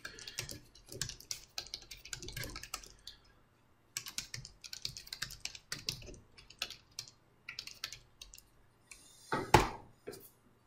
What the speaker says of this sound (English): So you can type your participants' names and then press tab or just click on them.